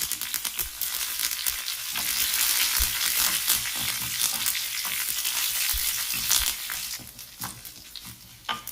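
Dried red chillies and curry leaves sizzle and crackle loudly in hot oil with mustard seeds, a steady frying hiss with scattered sharp pops and occasional stirring scrapes.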